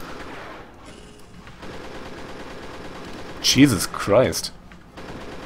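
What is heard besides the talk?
chain gun firing at imps in the video game Pirate Doom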